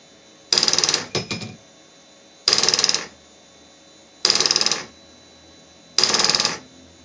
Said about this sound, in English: Watch the display as I pull the trigger.